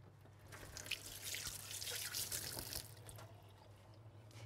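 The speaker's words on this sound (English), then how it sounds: "I'm just going to wash my hands before I shape them." Tap water runs steadily into a sink as hands are washed in a kitchen while making mince meatballs, a soft continuous splashing trickle with a few drips, close by and alone throughout.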